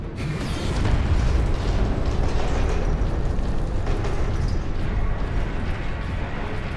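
A big artillery shell fires in the Warhammer 40,000: Space Marine Master Crafted Edition video game, a loud, deep boom that swells into a long, rumbling roar and slowly fades.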